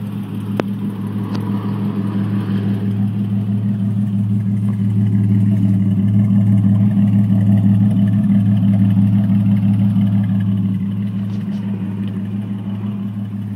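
A truck engine idles with a steady low rumble that swells slightly louder in the middle as the listener moves around the vehicle, then eases back, heard alone with no talk.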